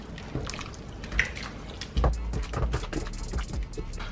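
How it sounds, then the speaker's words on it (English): Tomato sauce with a little sugar stirred in a pot, giving wet, liquid slopping and dripping sounds with a few soft utensil knocks, fairly close and moderately quiet, with no voices over it. "Make sure we stir this."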